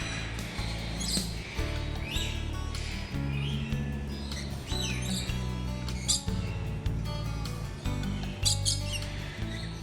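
Colorful birds of many kinds call at a bird park in Gyeongju, South Korea. Repeated chirps, squawks and tweets come at close to middle distance, with a steady hum of indoor background noise.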